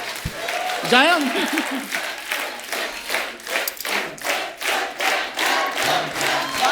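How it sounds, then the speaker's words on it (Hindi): A studio audience on a comedy show breaks into applause, a crowd of hands clapping in rapid, rhythmic bursts after a short stretch of talk and scattered thumps. "तालियां मेरे लिए, तालियां"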